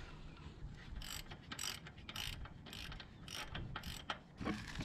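A ratchet clicks in short repeated bursts while a Triumph Thruxton motorcycle's rear wheel is tightened during chain maintenance, fairly close and alone.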